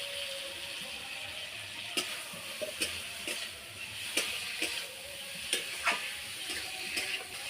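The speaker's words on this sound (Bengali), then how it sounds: "এবার আমি ভেজে রাখা আলু আর গাজর দিয়ে দেবো।" Fried potatoes and carrots tipped into hot spiced oil for a cabbage curry, a soft steady sizzle with scattered sharp clicks and stirring taps from a spoon against the pan, no talk.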